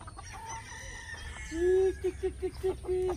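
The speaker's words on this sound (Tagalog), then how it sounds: "tinawag ni Papa Joseph yung mga manok" Chickens on a farm cluck and call in a short series of pitched bursts close by, over a steady outdoor background.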